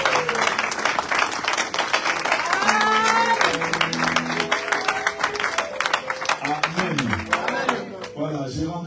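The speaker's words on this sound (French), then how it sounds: "Est-ce qu'on peut acclamer le Seigneur?" Church congregation applauding and cheering in worship, dense steady clapping with voices and sung tones running through it, tapering near the end.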